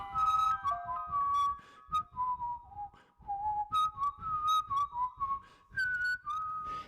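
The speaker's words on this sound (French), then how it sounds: "une petite mélodie sifflotée va lui caresser les oreilles" A clear, lilting melody whistled up close, with short phrases and brief pauses between them, bright and prominent with no talking.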